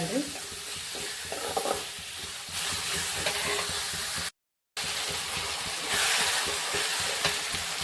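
Onions frying and being stirred in a pan until they turn fully red-brown, a steady close sizzle broken by spatula scrapes and stirring knocks throughout, with a brief dropout near the middle.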